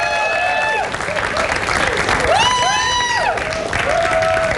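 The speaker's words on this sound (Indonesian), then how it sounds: "Kita beri tepuk tangan dulu untuk semangat teman-teman kita" A studio audience on a quiz game show claps steadily together, a loud, close wash of applause under overlapping musical tones and voices.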